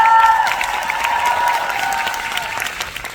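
An audience at a musical actor's fan meeting breaks into applause, sustained clapping with a little crowd cheer. A faint tonal line runs underneath, and there is no speech.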